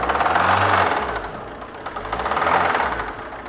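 A close, steady car engine with 178,000 on the clock idles with a rhythmic metallic knocking from a worn, oil-starved bearing that pulses evenly, swelling and easing slightly, with no voices.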